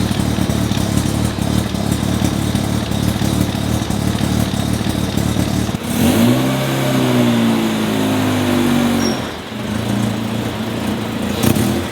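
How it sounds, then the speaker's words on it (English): A Mazda RX-7 rotary engine warming up after a choked cold start, loud, steady and close, with a buzzy drone and a short lift in revs partway through. "The car's running"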